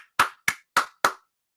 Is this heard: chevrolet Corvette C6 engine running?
no